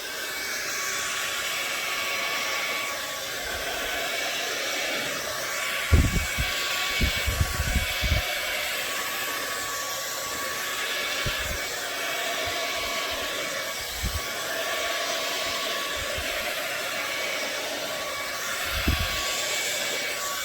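A hair dryer roars steadily and close for the whole stretch, blowing poured paint across a Dutch pour painting, with occasional low thumps and knocks beneath the rushing air.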